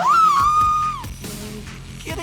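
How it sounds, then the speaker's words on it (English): Barbara, a fading horror-movie actress in the video game What Remains of Edith Finch, lets out an aged, strained scream: one long, loud, wavering cry that breaks off, followed by quieter background sounds. "Unfortunately, her scream hadn't aged"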